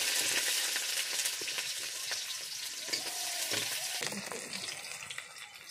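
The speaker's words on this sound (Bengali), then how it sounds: "এবারে হবে বাঁধাকপি ভাজা।" Cabbage fries in a pan with a constant hissing sizzle and occasional crackles and stirring scrapes, fairly close and easing slightly toward the end.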